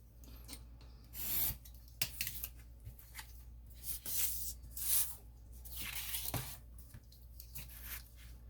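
Scissors snip through a piece of file folder cardstock, producing several crisp close cuts and rustling paper handling sounds in a quiet room.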